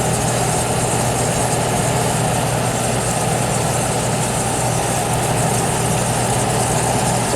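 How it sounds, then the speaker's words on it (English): A vintage 25 pint Aqua-Dri dehumidifier runs with a steady, dense hum and broadband hiss of compressor and refrigerant flow, constant and close throughout with no pauses. "You hear a lot of the refrigerant sounds though."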